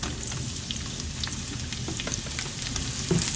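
Steady, dense sizzle of sliced onion dropped into garlic already frying golden in a non-stick pan, crackling continuously and close up with a few small bumps of stirring, no talk.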